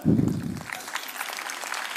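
At a motivational speech, an audience bursts into brief applause that is loudest at the very start and fades within about half a second into quieter room noise.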